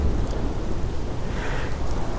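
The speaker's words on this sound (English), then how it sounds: "a very violent storm is approaching with lightning and clouds threatening hail" A violent thunderstorm with steady heavy rain and rolling thunder, a dense continuous roar with low rumbles throughout, close and fairly loud, no voices.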